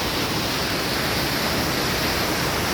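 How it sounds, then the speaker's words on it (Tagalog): Steady roar of a waterfall at Mother Falls on a clear, cool river in Ditumabo, San Luis, Aurora, a dense, constant rush of falling water filling the scene close and loud without letup. "Ito may falls dito."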